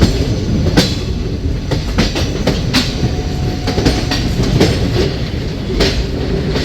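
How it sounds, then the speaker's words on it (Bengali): A Naihati–Ballygunge local train runs past continuously with steady rumble and repeated wheel clicks, fairly close and loud, with no talking. "ওই দিক দিয়ে একটা ট্রেন যাচ্ছে, ওই যে বেড়া, ওই যে নৈহাটি বালিগঞ্জ লোকাল"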